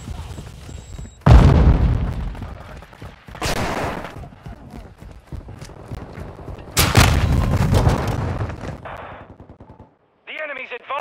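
Grenade blasts and heavy automatic gunfire in Call of Duty Modern Warfare, a loud booming explosion followed by further bursts and rapid firing, with in-game voice callouts between them.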